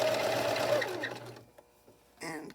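A sewing machine runs steadily, stitching the seam of a nightgown for an 18-inch doll, then slows and stops, followed by a few faint handling clicks and a short final burst of stitching.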